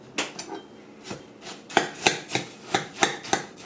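A spoon scrapes and knocks against a mixing bowl while bite-size granola ingredients are stirred together, a series of separate, fairly close scraping strokes in an uneven rhythm, with no voices.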